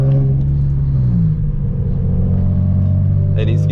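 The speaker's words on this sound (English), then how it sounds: "So this exhaust right now isn't the best." A Nissan 350Z fitted with a cheap eBay aftermarket exhaust that has several leaks, droning loudly and steadily while driving, its low engine rumble shifting pitch slightly partway through, with a faint higher noise near the end.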